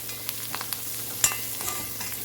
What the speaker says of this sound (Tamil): சேர்த்துட்டு இதோடையே சேர்த்து வதக்கிக்கிற போகிறோம்.